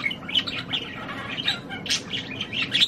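A young budgie chirps in short, bright, repeated tweets while tearing at millet, close by over a soft scratchy background of pecking and movement.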